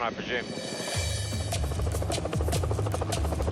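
A rescue helicopter's rotor and turbine drone steadily and loudly, with a brief voice speaking over it near the start.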